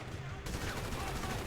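Rapid automatic gunfire in Grand Theft Auto V, a dense, loud burst of continuous shots filling the whole moment with game noise behind.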